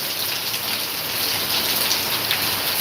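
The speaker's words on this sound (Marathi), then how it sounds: "आपण ह्या ठिकाणी पावसाचा आवाज पाहू शकता खूप मोठा पाऊस सुरू आहे" Heavy rain pours down in a dense, continuous hiss, loud and steady with no pauses.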